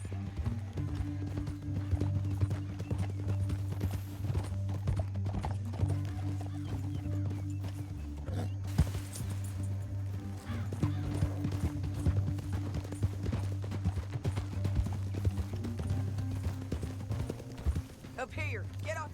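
Horse hooves clip-clop steadily through the Red Dead Redemption 2 game world beneath a constant low drone of game music and ambience, with a character voice speaking over it.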